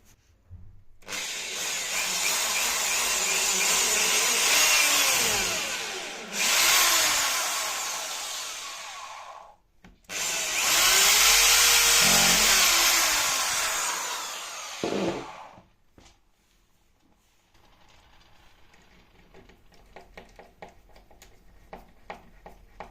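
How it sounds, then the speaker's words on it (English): A power drill drives screws into a wooden bed frame in long loud whirring bursts broken by short pauses, then goes quiet, leaving faint handling clicks and rustle at the end. "we're going to put two more screws in the bottom and top holes to hold it steady"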